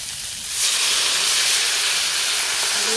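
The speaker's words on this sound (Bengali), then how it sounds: "তরকারিতে ঝুল দিয়ে নেই।" Broth poured into a sizzling curry in a village kitchen, a sudden loud steamy hiss that swells and then holds as a steady, close sizzle.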